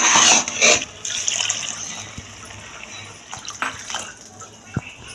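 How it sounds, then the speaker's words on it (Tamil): Water pours and splashes loudly into a cooking pot for vegetable pulao for a moment, then settles into softer trickling, drips and a few light clinks. "தண்ணியை இப்போ ஊற்ற போகிறோம்"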